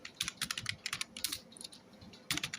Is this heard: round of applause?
no